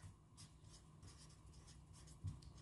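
Writing the time by hand during a lesson on telling time for kids: soft, close scratching strokes of a pen or pencil on paper in short bursts, faint and alone, ending with a sharper tap.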